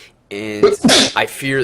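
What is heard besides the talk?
sneeze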